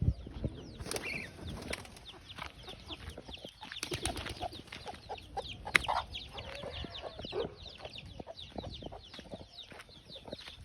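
Pigeons on a farm coo and flap their wings close by, with chickens clucking among them in a busy, irregular mix of calls and sharp wingbeats, no talking.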